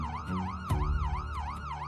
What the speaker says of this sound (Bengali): ওই শোনো, পুলিশের গাড়ির আওয়াজ শোনা যাচ্ছে।